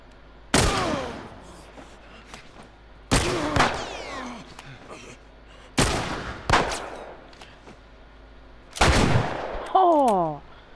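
Four loud, close gunshots from The Last of Us on Grounded difficulty crack out a few seconds apart, each with a ringing, echoing tail. The last one is followed by a short rattle.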